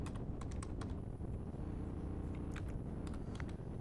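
Fingers tap on a computer keyboard, making light, irregular clicks in short clusters. The typing sounds fairly faint against a steady low background hum, with no one speaking.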